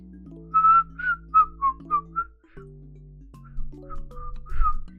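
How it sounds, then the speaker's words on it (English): A person whistles a short run of clear, bright notes, pausing briefly before a second, softer phrase of wavering tones; the whistling is close and carries no talk over it. "I can whistle."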